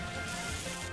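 Mud-Slap attack sound effect from a Pokémon video game: a single dense, hissing, splattering burst lasting about a second, with no voices over it.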